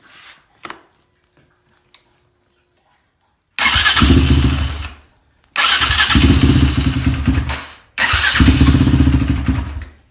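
A Suzuki LTR450 ATV engine cranked a few times, then three separate bursts of loud, rough running that sputter and cut off, with short silences between; it keeps cutting off when cold.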